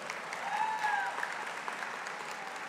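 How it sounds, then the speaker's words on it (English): An audience at a Muslim panel discussion applauds steadily for a congresswoman, with dense, even clapping throughout and a faint whistle-like tone early on. "Please give her a round of applause."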